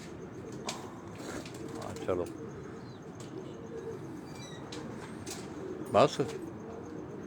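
Pigeons on a rooftop in Rawalpindi give soft cooing and brief wing flutters, faint and intermittent under a quiet background, with someone speaking briefly nearby.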